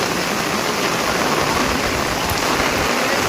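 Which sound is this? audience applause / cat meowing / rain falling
rain falling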